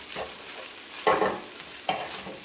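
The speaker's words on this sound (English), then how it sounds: "I'm gonna give that a mix." Corned beef fried rice being stirred and tossed in a hot pan, with repeated scraping strokes over a steady background sizzle, close and moderately loud.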